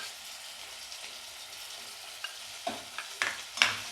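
Goat meat stir-fried with beaten yogurt sizzles quietly in the pan, with several sharp scraping strokes of a spatula near the end, close and alone.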